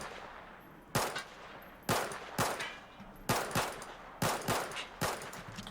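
Gunfire on the test shooting range in Battlefield 4: sharp, loud single shots and short bursts fired at roughly one-second intervals, each with a brief ringing tail, over a quiet range backdrop.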